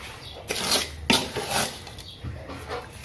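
Boondi being mixed for ladoo in a vessel makes a close, steady scraping and rustling with a few stronger strokes of the spoon against the pot.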